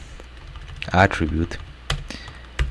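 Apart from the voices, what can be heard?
typing on a computer keyboard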